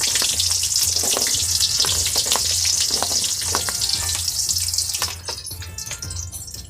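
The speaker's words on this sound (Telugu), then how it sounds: "ఇప్పుడు సాసులు చిట్పట్లాడింది, ఎర్రగడ్డలు వేసుకోవాలా." Onions dropped into hot oil with crackled tempering spices hiss and sizzle loudly and continuously, with stirring clatter, before the frying noise thins out near the end.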